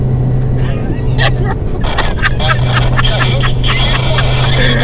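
An 800HP R34 Skyline and a 400HP K20-engined sleeper Mini launch together in a drag race, loud continuous engine roar with rising revs and gear-change breaks, a voice talking over it.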